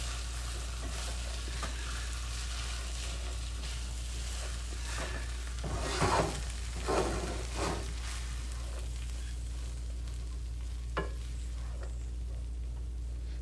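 Rice frying in oil in a pan for Filipino rice gives a steady, close sizzle throughout, with a few louder stirring scrapes and bursts of crackle near the middle.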